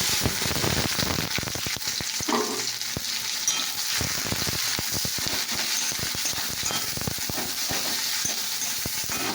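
Onions sizzle loudly in very hot oil, a dense, steady crackling hiss that runs close and continuous throughout, with scattered sharper pops and stirring scrapes.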